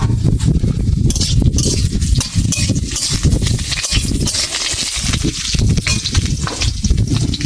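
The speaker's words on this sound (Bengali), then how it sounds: "কড়া গরম হয়ে গেছে, আমি আলু কটা ভেজে নেব আগে।" Potatoes fry in mustard oil in a hot wok, giving a steady, loud, dense sizzle and crackle with scraping stirs that runs through the whole stretch.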